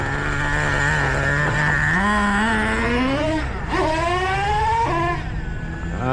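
Traxxas T-Maxx 3.3 nitro RC truck engine running loud and steady, its pitch rising and falling with throttle changes and a brief dip midway.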